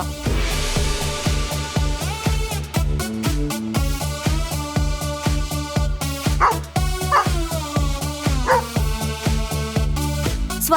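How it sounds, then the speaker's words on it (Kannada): A cartoon dog in a children's animated story about a mouse turned into a dog, yipping and barking over loud, busy background music with a steady rhythmic beat throughout. "ಈ ಸಲ ಆ ಮೋಡಿಗಾರ ಕೀಕಿನ ನಾಯಿಯಾಗಿ ಬದಲಾಯಿಸ್ದ"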